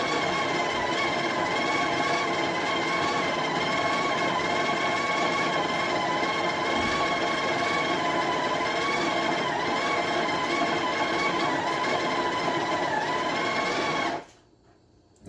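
Breville Barista Touch Impress grinder grinding coffee beans at setting 17: a steady, close, high-pitched motor whine that runs unbroken, then stops abruptly near the end.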